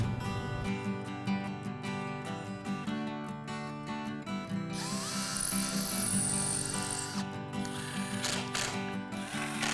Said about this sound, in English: I like to pre-drill the pilot holes in the groove.